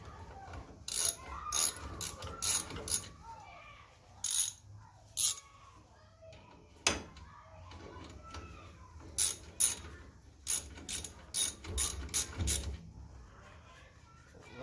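A ratchet tightens screws on the rear disc brakes of a 1992 Nissan Sentra, giving close, rapid bursts of clicking in repeated short runs separated by brief pauses, with a few louder metallic knocks and quiet talk in the background.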